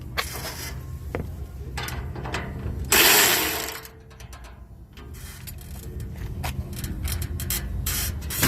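A ratchet snugs bolts on a Can-Am X3 Max door bracket, with short bursts of close, crisp clicking, one louder metallic rasp near the middle, then quieter intermittent clicks.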